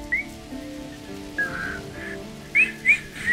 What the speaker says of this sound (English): That's my whistling skill, by the way.